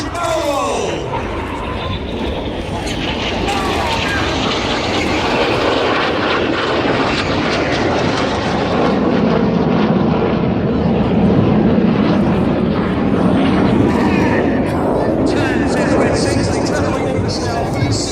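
Red Arrows jets fly an opposition barrel roll at the East Fortune airshow, a loud sustained roar that swells and sweeps past over about eighteen seconds. A commentator's voice runs over the engine noise.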